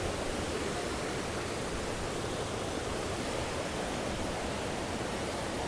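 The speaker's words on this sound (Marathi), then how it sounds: "हे बघा मित्रांनो वॉटरफॉल इथे जवळ आलोय आम्ही आता." Waterfall at Tamhini Ghat rushing nearby as a dense, steady, broadband roar, loud and unbroken throughout.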